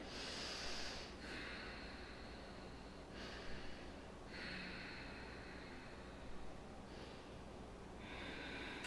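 Slow, deep breaths during a yoga practice, several soft airy exhalations and inhalations rising and falling close by against a low steady hum, with no talking.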